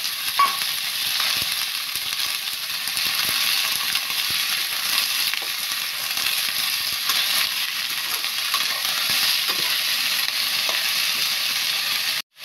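Vegetables and tomatoes fry in a hot pan with a steady, close, crackling sizzle that holds evenly for several seconds before cutting off abruptly.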